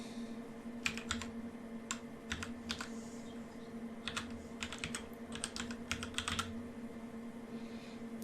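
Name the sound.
typing a cluster name on a computer keyboard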